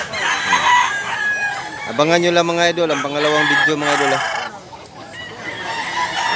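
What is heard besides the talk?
tethered roosters and chickens crowing and clucking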